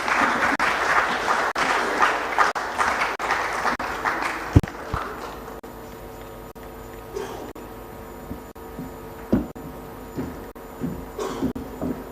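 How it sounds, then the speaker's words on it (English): An audience at a conference closing ceremony in Uganda applauds steadily for several seconds, a dense wash of clapping that fades out, followed by scattered knocks and thumps. "A round of applause as we welcome her."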